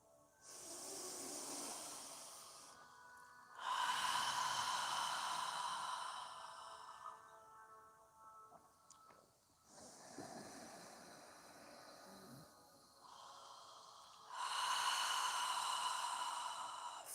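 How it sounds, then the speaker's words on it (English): Slow, deep exhalations through the mouth during a yoga breathing exercise, each a long airy hiss lasting several seconds, separated by quieter inhalations, close and alone with no talking. "As you're exhaling, imagine you're fogging a mirror with your breath."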